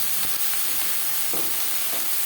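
Eggplant slices for begun bhaja fry in oil over high to medium gas flame, giving a loud, dense, steady sizzle with a few soft stirring knocks.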